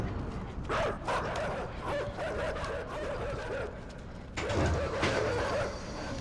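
Dogs in the video game INSIDE bark in a busy, overlapping stream of yaps and yelps throughout, fairly loud and near, with a heavier burst toward the end.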